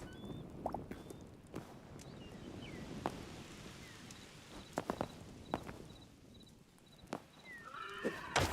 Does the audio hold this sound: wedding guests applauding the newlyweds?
no